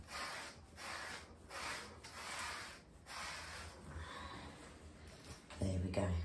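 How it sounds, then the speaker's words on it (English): A stone dragged repeatedly through a Gordon Setter's coat during hand stripping, raking and pulling hair in several soft scratchy strokes close up, with quiet breathing or a snort near the end. "use a stone to stretch the skin and use it as a rake. So you just run the stone along like that"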